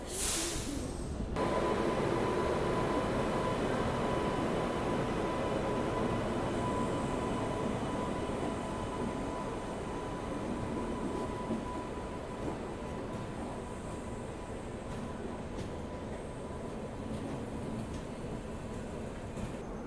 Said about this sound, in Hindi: चलिए फिलहाल तो आपको दिखाते हैं डिपार्चर कर्नाटका एक्सप्रेस का WAP7 के साथ।